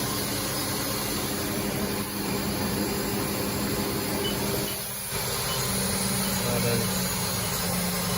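A 2020 Haas VF-2SS vertical CNC machining center spindle running at high speed, up to 12,000 RPM, gives a steady, loud whirring drone with a brief dip partway through.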